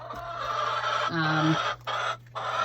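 Hens clucking inside a winter coop, a steady chorus of close, overlapping clucks and calls that runs throughout with a couple of brief pauses, over a low constant hum.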